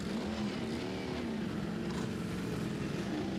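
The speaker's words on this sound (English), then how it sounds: "The rattle, the jingling of that clutch." A Magic Bullet Ducati race motorcycle out on track at Kirkistown during Ulster Superbike racing, its clutch rattling and jingling over a steady, moderately distant engine drone that holds fairly even for a few seconds.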